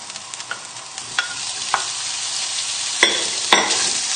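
Bacon sizzles in a hot pan over high heat for a fish cassoulet, a continuous close frying hiss broken by several sharp scraping taps and pops, with no speech.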